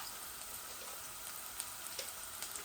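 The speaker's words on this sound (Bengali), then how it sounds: "লবণ দিমু আর পেঁয়াজগুলা গলি যাক, তারপরে একটু ভাজা ভাজা হয়ে যাক আর কি" Onions frying in a pan with salt added, a steady soft sizzle with faint scattered pops throughout, fairly quiet and close, no talking.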